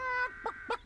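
A few short, nasal clucks from a hen, three quick calls close by with brief pauses between them.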